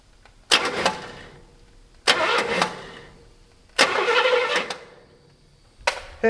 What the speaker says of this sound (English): we're going to see, will this thing actually do anything, and spin the engine over